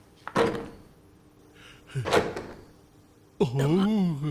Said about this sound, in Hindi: ये दरवाजा क्यों नहीं खुल रहा?